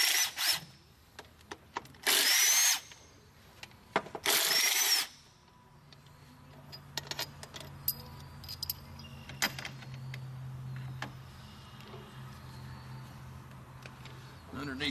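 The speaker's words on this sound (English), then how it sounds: "Now your throttle position sensor, you're just going to unbolt it and set it out of your way." Power tool spinning out a bolt on the throttle position sensor of a 1998-2000 Dodge 5.9L engine: two short, loud whirring bursts up close, followed by quieter clinks and handling of parts.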